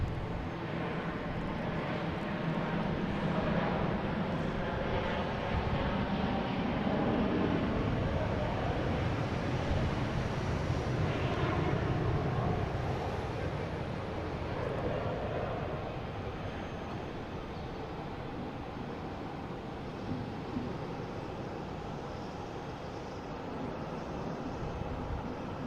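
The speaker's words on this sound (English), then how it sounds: "You'll hear an engine rumbling down here." A Delta airliner rolls down the runway for takeoff at Boston Logan International Airport, a steady, heavy engine rumble heard from a distance that holds for the whole stretch and fades slightly toward the end, with no voices.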